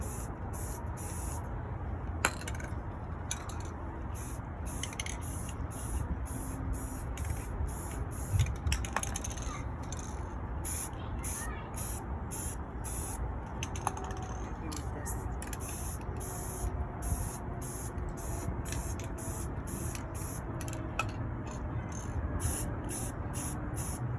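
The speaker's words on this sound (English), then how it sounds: "I'm gonna just spray spots in my bucket." Spray paint in fluorescent green, meadow green and metallic gold hisses in short repeated bursts onto the water of a hydro dip bucket, steady and close with small clicks between sprays.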